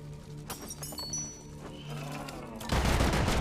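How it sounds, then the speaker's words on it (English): Gunfire in a cave-mining video game, with scattered sharp shots and clinks over a steady hum, then a loud, dense burst of fire near the end. "Did Bosco just fucking friendly fire me"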